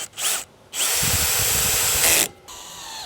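A drill driver runs in short bursts, then whirs steadily while driving stainless steel deck screws into decking before its clutch releases, with a loud close grinding buzz.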